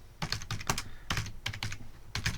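Typing on a computer keyboard while entering data into an Excel spreadsheet: about a dozen crisp key clicks in quick, uneven clusters, close and clear with no talking.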